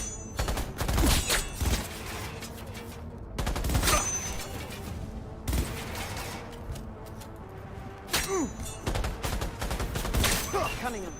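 Bursts of rapid automatic gunfire from the video game Cyberpunk 2077 come in several loud volleys separated by short lulls, with game sounds and some voices underneath.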